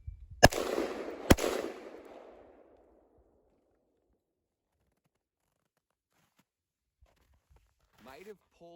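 Two sharp, loud gunshots from a Palmetto State Armory gun fire about a second apart at an outdoor range, each leaving a trailing echo. Quiet follows, then brief faint rustling.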